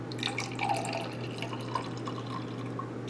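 Sparkling wine is poured into a cinnamon-sugar-rimmed glass for an apple cider mimosa. It makes a soft, close trickle with light fizzing and dripping sounds over a faint steady background hum.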